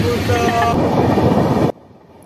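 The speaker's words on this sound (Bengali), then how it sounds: "এই ট্রেনটি হচ্ছে Howrah Ranchi intercity superfast express" The Howrah–Ranchi Intercity Superfast Express rolls loudly past at close range, a dense rumbling rush of wheels and carriages that cuts off abruptly, leaving only quiet background.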